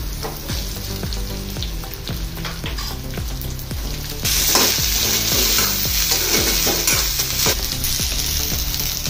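Okra sizzles loudly as it drops into hot oil with fried spices in a kadhai, a dense steady crackle with rhythmic stirring scrapes, the hiss swelling brighter halfway through.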